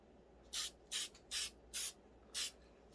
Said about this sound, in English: and you spray it down